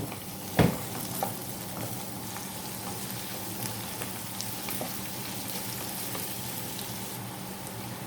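Sliced onions sautéing in a pan for mutton curry, a steady soft sizzle and crackle that holds evenly throughout, with one brief sharp clatter near the start.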